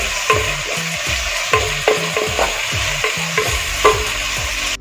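Onions, tomatoes and green chillies sauté in a pan for a Malabar chicken curry, a steady sizzle broken by regular scraping stirs of a spoon, close and fairly loud with no talking.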